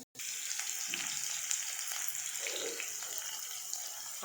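Steady crackling sizzle of tempering seeds frying in hot oil for amaranth-leaf upma, continuous and close, with a brief silence at the very start and no voices.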